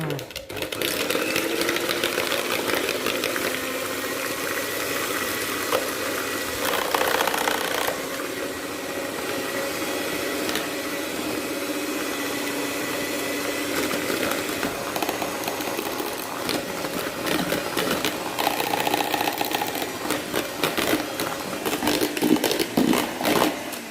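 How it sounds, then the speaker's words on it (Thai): An electric hand mixer whips egg whites as sugar and vanilla are added gradually, a steady close whirring motor hum that runs continuously with slight rises and dips in pitch as the beaters move through the bowl. "ปั่นไข่ขาวทยอยใส่น้ำตาลกับวานิลาลงไปค่ะ"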